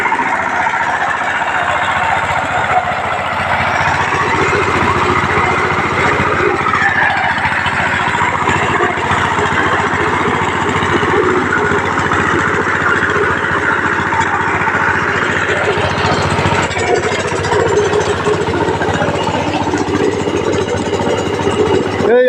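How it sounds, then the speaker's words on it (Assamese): A water pump engine running in a rice field, a loud, steady mid-pitched drone that continues unbroken and close throughout, with some people talking over it. "এইফালে মেচিন লগাই দিছোঁ আমি পানী।"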